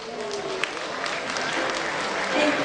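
Guests at a wedding reception applaud in a banquet hall, producing a steady wash of clapping with voices mixed through the crowd noise.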